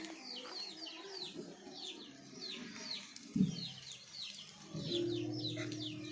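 Chickens clucking softly as they settle to roost for the night, with a steady chorus of bird chirps throughout and a brief low thump midway.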